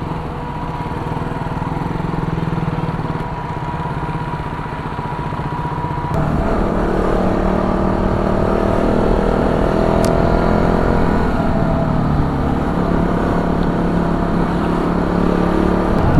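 Steady engine drone of congested holiday traffic on an old highway, continuous and fairly loud, with motorcycle and car engines running together and no talk over it.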